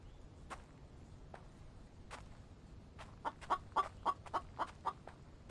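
Chickens cluck in the video game The Infected: a quick burst of about eight sharp clucks near the end, after a few isolated faint calls over a quiet ambient bed.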